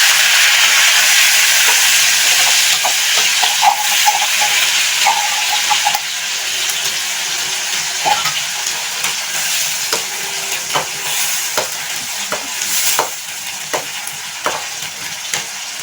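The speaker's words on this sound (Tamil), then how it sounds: "எண்ணெய் சிறிது காய்ந்ததும் கடுகு பொரிஞ்சிருந்து அதில் நான் இப்போ மிக்சியில் அரைச்ச வெங்காயம் தக்காளி விடுது" Ground onion and tomato paste fries in hot oil with mustard seeds, a loud, steady sizzle with scattered crackles and spoon scrapes running throughout, no voices.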